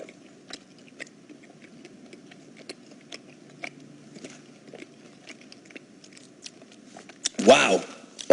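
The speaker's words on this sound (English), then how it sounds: "I did not know it takes that much to chew Skittles." Skittles candy chewed close to the mouth, a run of small crunching and clicking bites with a louder burst of noise near the end.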